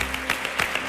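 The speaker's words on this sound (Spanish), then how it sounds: "Este aplauso es muy sincero." Audience applause on a televised flamenco talent show, a short bright burst of many hands clapping with uneven pulses, fairly soft.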